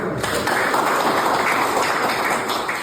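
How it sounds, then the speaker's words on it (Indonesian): Audience applause during a university teaching-certification session, dense steady clapping filling the room at even loudness for the whole stretch, with a faint voice or two beneath. "tepuk tangan dulu"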